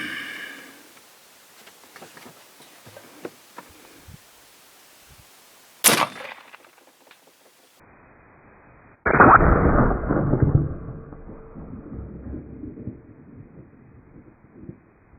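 An AirForce Texan .457 air rifle fires with a sharp crack, followed by a loud, booming burst of noise and a fading rumble, with a few small clicks and handling noises before the shot.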